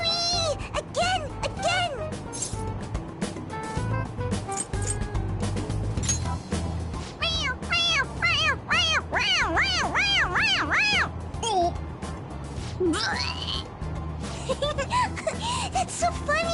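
A toy cat in Persona 5 Royal gives a string of quick, high meows, one after another, each time its head is pressed. Game music and voices run underneath, and there are lively reactions between the squeaks.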